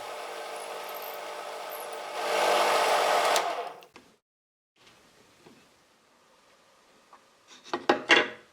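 A drill whines into a wooden bead in a short burst, then quiet, followed by a few light knocks and scraping handling sounds.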